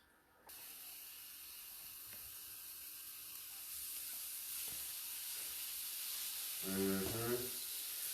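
Onions and mushrooms fry in a pan for a steak, quinoa and greens meal, giving a steady, close hiss and sizzle throughout, with a short voice near the end.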